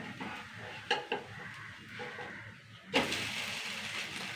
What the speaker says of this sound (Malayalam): കുറച്ച് നെയ്യ് ഒഴിച്ച് കൊടുക്കട്ടെ